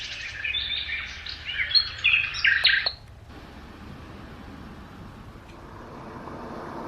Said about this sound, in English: so it's like birds chirping.